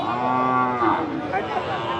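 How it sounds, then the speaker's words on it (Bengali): Cattle at a cattle market in Lohai, Gazipur, where bulls are sold: a drawn-out, close moo fills the moment, with a second lowing call blending in against a faint market background. "এখানে এই যে আরো গরু আছে"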